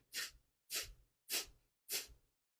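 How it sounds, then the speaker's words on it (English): Four sharp, forceful exhales through the nose, evenly spaced about two-thirds of a second apart, each a short breathy burst with silence between. "we're going to do 20 sharp, quick exhales through the nose"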